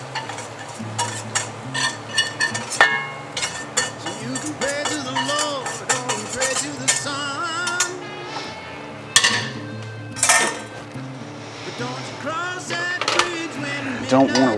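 A spoon scrapes and stirs a long-cooked roux into a hot pot for gumbo, with repeated clinks, scrapes and soft sizzling, while people talk over the cooking.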